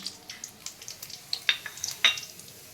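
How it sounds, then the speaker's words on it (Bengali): Whole cumin, garam masala and dried red chillies tempering in hot oil for a potol (pointed gourd) dish, giving a light, close crackle with a few sharp pops and spits. "আমি জিরে গোটা গরম মশলা শুকনো লঙ্কা ফোড়নে দিচ্ছি"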